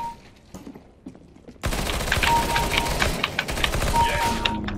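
P90 submachine gun fired in the video game CS:GO, rapid bursts of automatic gunfire that start abruptly after a quiet moment and continue as dense clattering shots with faint in-game sounds underneath.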